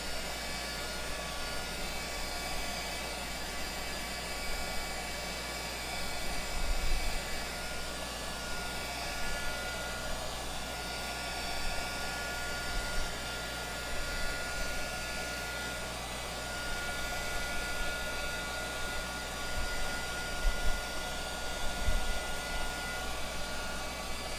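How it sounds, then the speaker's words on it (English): Heat gun blowing over a watercolor painting to heat-set the colors: a steady, even whoosh of hot air that runs unbroken throughout, with no talking. "So I'm going to heat set it with my heat gun."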